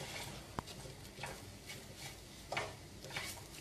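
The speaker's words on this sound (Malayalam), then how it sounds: "ഇതൊരു 2 മിനിറ്റ് ഒന്ന് വഴറ്റി കൊടുക്കാം" A spice mixture sautés in a pan for a Kerala-style squid stir-fry: a soft, steady sizzle runs under occasional clicks and scrapes as it is stirred. Nobody speaks.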